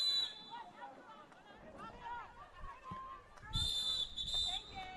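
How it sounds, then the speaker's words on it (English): A referee's whistle sounds several times during a women's field hockey match, short shrill blasts standing out over a quiet crowd murmur and commentary. "A lot of whistles going on here."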